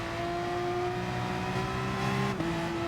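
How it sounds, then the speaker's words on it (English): A race car driving in the pits in the GT Sport video game, a steady droning engine tone with a slight pitch shift near the end, held alone without talk. "Why do I hear a car next to me?"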